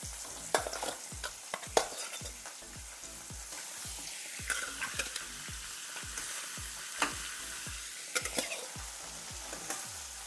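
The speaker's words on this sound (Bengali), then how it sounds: "তেল গরম হয়ে গেছে, এক এক করে মাছ দিয়ে দিচ্ছি।" Katla fish pieces frying in hot oil: a continuous crackling sizzle with sharp spatters and pops scattered through it, close and moderately quiet, without talk.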